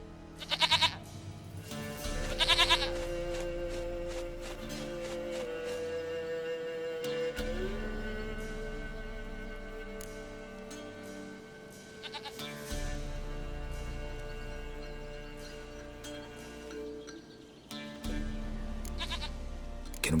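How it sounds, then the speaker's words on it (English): Goat bleats in The Witcher 3 game, a few short wavering calls near the start over a steady bed of game music and ambience. "Goat of mine, dearest,"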